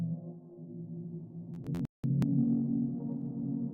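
Atmospheric synthesizer pad drenched in shimmer reverb, a sustained low drone with bright pitched tones briefly flaring above it and a short dropout near the middle before the wash swells back.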